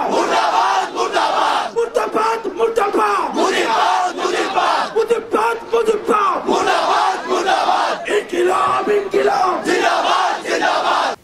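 Large crowd at an NCP rally in Gopalganj chanting slogans in loud rhythmic unison, repeated call-and-response shouts filling the whole stretch.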